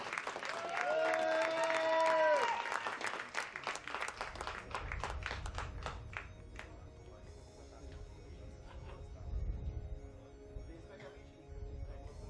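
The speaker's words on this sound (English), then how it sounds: "So we go on with a big applause for both athletes." Crowd applause at a trap shooting competition final, steady and fairly loud for the first few seconds, then thinning into scattered claps with muffled low rumble and some talk.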